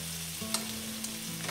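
Rice frying in a paella pan for a Spanish paella gives a steady, close sizzle with a few faint scraping and stirring clicks, and no talking.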